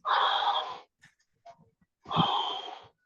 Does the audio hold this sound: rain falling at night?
no